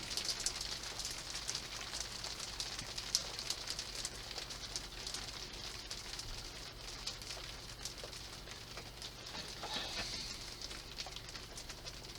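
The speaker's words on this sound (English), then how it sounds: "as you can hear, on the roof, in the shed. And I thought we might have seen the last of the rain for the day, but apparently not." Rain falling on a shed roof as a soft, constant hiss and patter that stays steady and faint throughout, with no voices.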